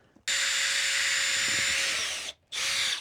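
A power drill bores holes beside floor joists during a house renovation, whining loud and close for about two seconds, slowing as it stops, then spinning up again briefly after a short pause.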